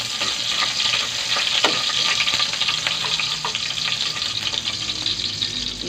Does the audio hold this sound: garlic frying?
yes